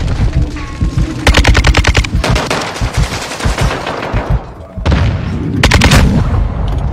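Rapid bursts of gunfire from a video game, loud, dense and close, with a brief lull before another volley near the end; shotgun blasts may be among the shots.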